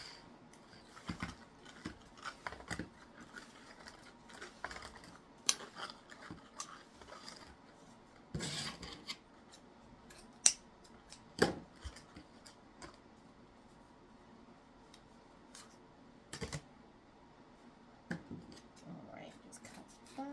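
Scissors snip through hot pink deco mesh ribbon for a Valentine's wreath, giving scattered short crisp cuts at close range over a quiet background with faint rustling between cuts.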